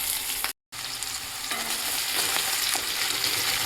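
Onions fry in oil with mustard seeds while a spoon stirs them in the pan, a steady close sizzle broken by a brief dropout near the start and soft scraping strokes throughout.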